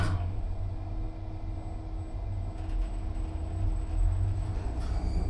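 A Morris Vermaport lift travels down, giving a continuous low rumbling hum with faint mechanical whine, steady and close, no voices.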